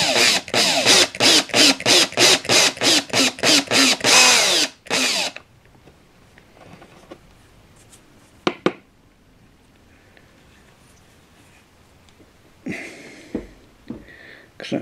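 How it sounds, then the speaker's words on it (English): A power drill revs in a rapid series of loud, short bursts while cleaning out a drain hole, then stops; quieter handling noises and brief clatter follow. "I'm just going to run a drill"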